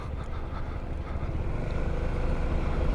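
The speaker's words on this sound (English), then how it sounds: "It's a scooter with very mild off-road capabilities," A Honda ADV 350 scooter rides slowly over a rough road, giving a steady low engine rumble with road noise and wind buffeting up close. No one speaks.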